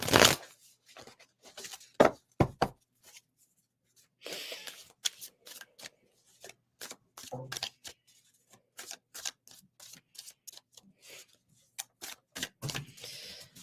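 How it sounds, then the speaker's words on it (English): A deck of playing cards shuffled by hand in repeated quick riffles and snaps, crisp and close, with short bursts separated by brief pauses and no talking. "Someone just asked to pull a card. I will pull a card."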